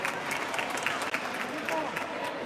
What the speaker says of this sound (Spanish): Mirá cómo aplaude abajo el nene